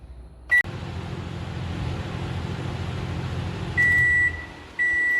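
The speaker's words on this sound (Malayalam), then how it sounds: "ഇനി ഇത് മൈക്രോവേവ് ഓവനിൽ ബേക്ക് ചെയ്തെടുക്കാം" A microwave oven baking a banana sponge cake gives a short electronic beep, then runs with a low steady hum, and ends with longer, loud beeps near the end.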